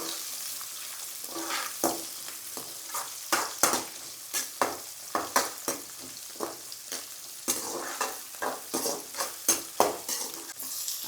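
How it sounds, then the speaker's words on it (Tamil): Onions frying in oil for tempering: repeated scraping stirs in a pan over a soft background sizzle, with regular clinks of a utensil against metal throughout. "நல்லா கொஞ்சம் தாளிப்பு கொடுத்துக்கலாம்."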